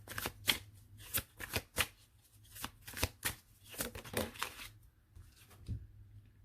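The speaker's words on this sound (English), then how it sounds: "Let me pull one more card" Tarot cards are handled and drawn from a deck during a reading, giving a run of crisp papery flicks and snaps in uneven bursts, close and fairly quiet, with no voices.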